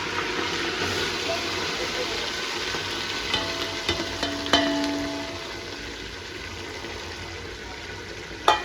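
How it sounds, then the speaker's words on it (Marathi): Home-ground spice masala frying in a pan: a steady broadband sizzle runs throughout at moderate level, with a few soft stirring clicks and scrapes and one louder knock near the end. "हा मसाला आता आपण चांगला फ्राय करून घेऊ"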